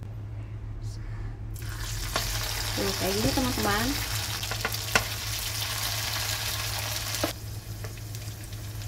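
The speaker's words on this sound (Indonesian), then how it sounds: "Nah, goreng dulu sampai satu sisinya matang, baru nanti kita balik, teman-teman." Spoonfuls of tofu and corn batter sizzling in hot oil, a steady bright frying hiss that swells as batter drops in, with someone speaking briefly over it.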